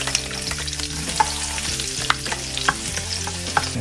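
Garlic frying in hot oil after annatto seeds, a steady dense sizzle with occasional sharper crackles and pops, close and continuous throughout, no voices.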